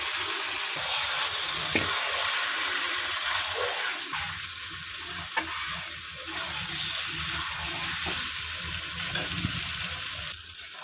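Marinated mutton with garlic paste, chili paste, chopped tomato, salt, turmeric and cumin frying in a pan, a steady close sizzle with occasional scraping stir clicks throughout.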